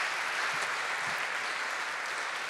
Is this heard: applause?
yes